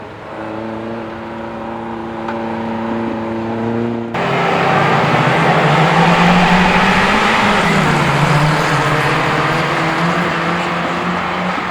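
An autograss race car thunders past close by at a St Neots meeting, its engine note jumping louder midway and holding a steady high roar with a slight rise and fall as it crosses the line.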